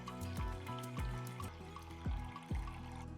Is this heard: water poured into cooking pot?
yes